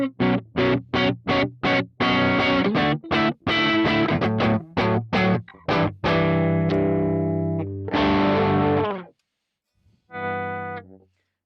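A distorted electric guitar plays a string of quick chopped chords, then a few longer ringing strums with pauses between them, up close and alone with no talking over it.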